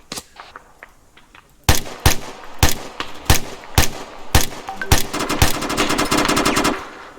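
Bursts of machine-gun and rifle fire in Arma 3 during a platoon ambush training exercise, sharp repeated cracks that build into sustained rapid automatic fire, loud and close, with no talking.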